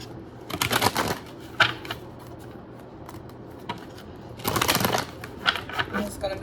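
Tarot cards being shuffled by hand, two bursts of crisp riffling and flicking near the microphone separated by a quieter pause with light handling taps.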